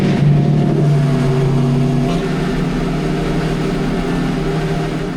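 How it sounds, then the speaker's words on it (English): A Lamborghini Revuelto fires up and settles into a steady, fairly loud idle that holds evenly throughout, with no talking. "Toggle on the left, turn it to the right, and it should fire the car up"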